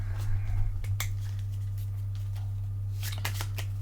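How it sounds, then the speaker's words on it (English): A deck of playing cards shuffled during a Cartographers board game session, giving crisp riffle bursts and snaps near the start and again near the end over a steady low hum. "And just another little shuffle, just to be on the safe side."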